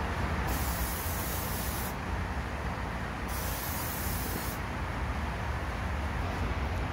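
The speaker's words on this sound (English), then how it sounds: "now we're just going to spray the flake on there." A spray gun dusts silver flake paint over the engine bay of an 1988 Honda Civic Wagon, giving a loud, steady airy hiss that pulses in long bursts with brief breaks, close and continuous.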